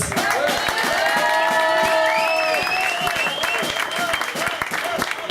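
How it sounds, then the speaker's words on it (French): Thunderous applause and cheering from the crowd at an ITF Grade 1 junior tennis tournament ceremony in Flic en Flac, Mauritius, with dense clapping, whistles and shouting voices throughout. "j'ai profité du moment d'avoir le micro pour demander un tonnerre d'applaudissements"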